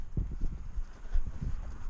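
Hooves of a ridden horse thud softly in an uneven walking rhythm close by, mixed with wind buffeting the microphone and no voices.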